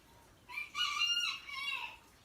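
Rooster crowing loudly and close, one long drawn-out cock-a-doodle-doo call with no talk, at a home where chickens and two roosters are kept.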